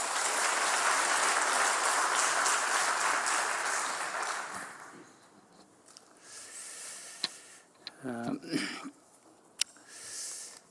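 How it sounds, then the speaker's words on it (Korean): Warm congregation applause at a Korean church service for the ordination of elders fills the first few seconds loudly, then thins and fades into quieter room sounds with a few sharp knocks and handling noises. "뜨거운 박수로 모시겠습니다."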